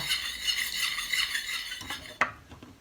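Agar powder being stirred in a pot so it dissolves, a steady close scraping and swishing with light metallic clinks of utensil against pot, ending in a sharper knock.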